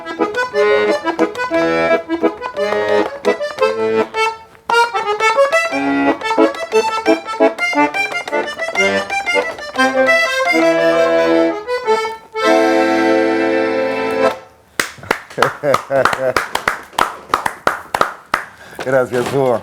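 Someone plays accordion live in a studio conversation setting, with quick, busy passages of chords and runs, a sustained held section and more choppy phrases toward the end, loud and close.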